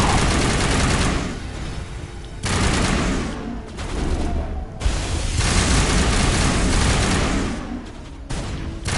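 Loud, dense gunfire from the video game Mass Effect 1, with sustained bursts of rapid shots broken by short pauses, filling the foreground with booming fire.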